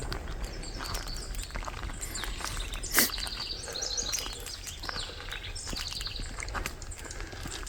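A house wren sings repeated bubbling, rapid trills outdoors on a hillside hike, fairly close and bright, with crunching footsteps and light rustling beneath the song.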